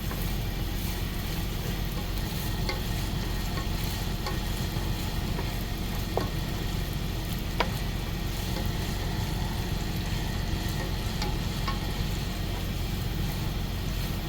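Dill being stirred into food frying in a pan inside a truck, a steady sizzle with faint scraping stir sounds throughout, no talking.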